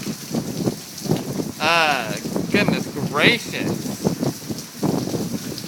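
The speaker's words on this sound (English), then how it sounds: "Unbelievable how much rain we're getting." Heavy rain and gusty wind keep up a continuous rushing roar beneath a person talking and exclaiming over it.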